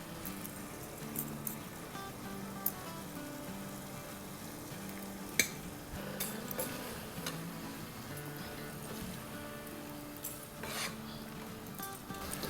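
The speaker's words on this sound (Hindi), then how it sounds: "बस इसको हम जब तक भूनेंगे जब तक कि मसाला जो है वो ड्राई ना हो जाए" Spice masala of coriander, red chilli, cumin and garam masala powders fries and gets stirred in a pot for one-pot chicken biryani, a soft steady sizzle with occasional spoon scrapes and clinks.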